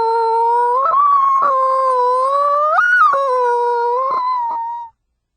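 A human voice imitates a hurt dog's whine: a sustained, high, wavering keening that lasts about five seconds with small breaks and pitch jumps, close and loud, then cuts off.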